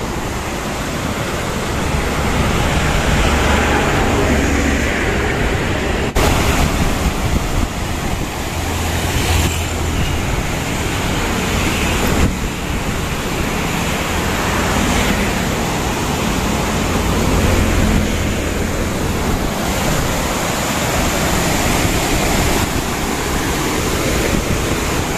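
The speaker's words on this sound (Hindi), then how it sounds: "मेरे पीछे देखो पानी के झरने ही चलने लगे" A waterfall on the Gaggar river gives off a steady, loud, broadband rush of falling water that holds constant throughout with no talk.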